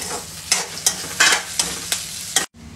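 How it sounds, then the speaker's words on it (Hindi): Boiled, cut potatoes frying in a pan for sabudana khichdi, a steady close sizzle broken by repeated scraping stirs of the spatula at a loose rhythm, with no voices. "ये आलूओं को मैंने थोड़ा सा उबाल के ऐसा काट के अब मैं इसको भी थोड़ी देर इसमें फ्राई कर लूंगी"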